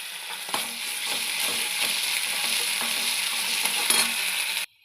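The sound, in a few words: onion, green chilli and ginger garlic paste frying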